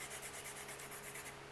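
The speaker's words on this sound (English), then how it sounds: "This is my red chalk sanding block." A stick of cream-colored Carb-Othello 105 chalk scrapes back and forth on a sanding block in quick, even strokes, a soft close rasp about six times per second.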